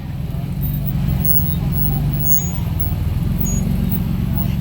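A rock crawler at a W.E. Rock competition course edges two tires out of the exit gate, its engine a steady low rumble close by, loud and continuous, with voices talking over it.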